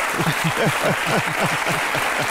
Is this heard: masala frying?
no